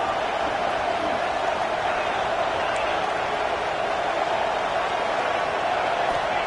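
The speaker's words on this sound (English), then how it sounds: "Guns up, and so is the noise. The crowd electric, trying to help Tech on this 3rd down." A dense, roaring football stadium crowd at a Texas vs Texas Tech game holds a steady, loud wash of cheering throughout.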